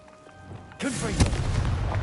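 A Confringo blasting spell in Hogwarts Legacy bursts with a sharp boom after a quiet lead-in, followed by a rumbling, crackling wash and a second thump, with a voice heard around it.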